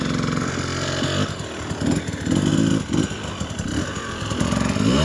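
A 2024 Husqvarna TE300 two-stroke dirt bike climbs a steep hill in the Glass House Mountains, its engine buzzing and revving loud and steady at a moderate distance, with clattering under the strain.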